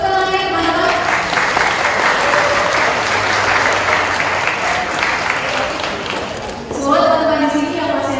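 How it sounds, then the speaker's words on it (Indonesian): An audience at a university general lecture applauds with sustained, dense clapping while a voice talks over the start and end. "Tepuk tangannya teman-teman."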